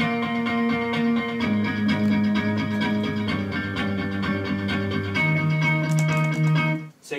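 Four Rex loops of a single solid guitar strum, layered and played in a row, form a continuous sustained strummed chord pattern that shifts pitch partway through, steady and loud with no talking.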